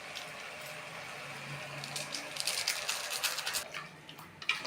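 Water poured into a pot of rice for biryani, a steady wash of splashing and trickling that grows louder and more bubbly toward the end, close and alone.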